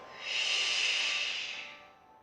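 A single long exhaled breath during a Pilates ball exercise, a steady breathy hiss swelling up, holding, then fading away, close and fairly soft, with no talking.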